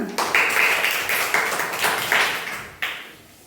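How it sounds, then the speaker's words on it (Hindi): Schoolchildren in a classroom clap in short, uneven bursts of several claps each, close and moderately loud, with faint voices underneath. "तो ताली तो बजती है ना।"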